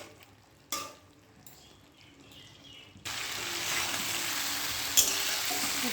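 Young jackfruit, already boiled with salt, sautéing in hot oil in a pan: a quieter stretch with a brief clatter, then a loud, steady broadband sizzle for the last half.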